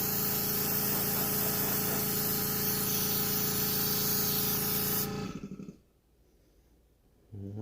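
Aerosol spray paint hisses steadily as yellow is sprayed over red on a Team Associated RC10GT RC car body, a loud continuous spray with a mechanical hum beneath that cuts off abruptly near the end, leaving near silence.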